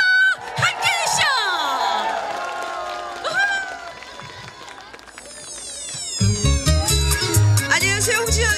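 A large crowd at an outdoor cherry blossom festival concert cheers and shouts loudly, with whistles and screams rising over the noise and bursts of applause.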